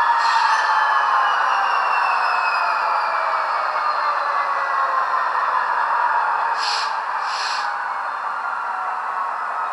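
In a train simulator game, a VIA F40PH-2D locomotive's engine settles back into idle with a steady, loud hum that slowly fades lower, and a pair of brief hissing bursts follow near the end.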